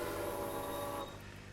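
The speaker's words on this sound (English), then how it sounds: "Where's my freight train coming back?" A freight train in the railway video game Railway Empire rumbles with a steady droning hum, then cuts off abruptly about two-thirds of the way through, leaving faint background.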